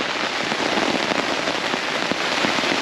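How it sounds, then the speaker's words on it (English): Rain falls steadily at a campsite, a dense, even patter close by with scattered louder drops and no other sounds over it. "You might not be able to hear me because it's raining."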